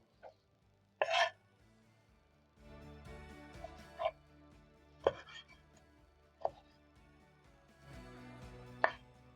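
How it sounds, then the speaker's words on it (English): A knife chops vegetables on a board for fish stew, a few sharp, separate cuts spaced irregularly over a quiet kitchen background with some faint clatter. "I'm roughly chopping up my veggies"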